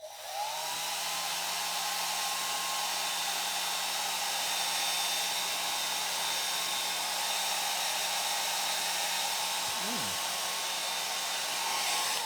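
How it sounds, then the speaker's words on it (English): Cien hair dryer from Lidl running on its lowest setting, a steady close whirring motor and airflow roar that holds evenly throughout, with a brief wavering tone near the end. "Don't know what it's going to sound like on here,"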